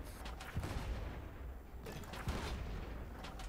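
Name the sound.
ship cannon fire in video game Blazing Sails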